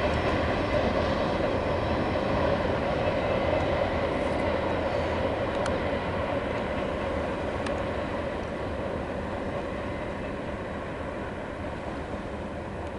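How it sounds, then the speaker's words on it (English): A long Norfolk Southern manifest freight train with two mid-train distributed power units and a caboose rumbles steadily past nearby, a dense broadband roar with faint wheel clatter that stays loud throughout and eases only slightly toward the end. "And we got another train coming."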